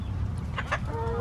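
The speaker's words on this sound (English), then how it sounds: "I think I have a broody hen." A broody hen gives a couple of low, soft clucks close by, followed by a brief higher murmur, otherwise quiet.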